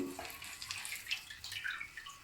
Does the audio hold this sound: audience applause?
no